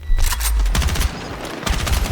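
Gunfire rings out in the Battlefield video game: a loud, close burst of rapid shots, then a brief lull before another volley of sharp cracks and booming echoes.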